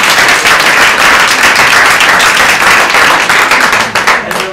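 Audience applause at an evening piano recital, a loud, close, sustained burst of clapping that fades slightly near the end, with no talking.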